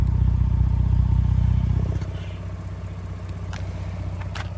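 A Ford Bronco Raptor engine with its stock factory exhaust idles with a steady low rumble that drops slightly in level partway through, quiet and smooth, with faint clatter in the background.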